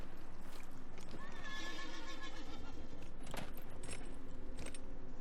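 A horse neighs and whinnies in Dragon Age: Inquisition, with clip-clop hooves and a jangle of tack over continuous game background noise, close and clear.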